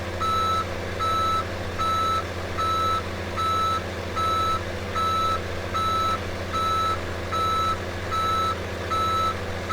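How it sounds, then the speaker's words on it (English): A giant farm truck in Farming Simulator 17 reverses, its backup alarm beeping in a steady even series of about ten loud beeps over a constant low engine drone. "back this giant truck down"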